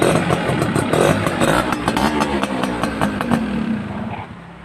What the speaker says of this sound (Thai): มีเสียงใบพัดนะครับ ดังข้างล่างนิดหน่อยนะฮะ เวลาเร่งก็หายนะครับ